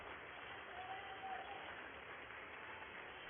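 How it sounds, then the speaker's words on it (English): Members of the House applauding during the censure of Adam Schiff, a muffled, steady wash of clapping heard at a distance with a narrow, dull tone and some crowd murmur underneath. "They're actually applauding this guy for what he did for 4 years"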